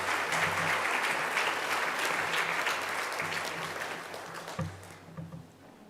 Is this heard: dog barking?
no